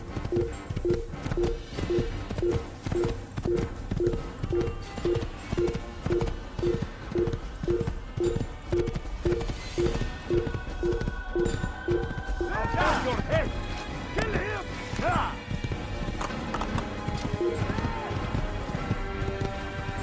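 Horse galloping in the video game Assassin's Creed, a steady rapid run of hoofbeats over twenty seconds, with clattering impacts and game sounds layered in the second half.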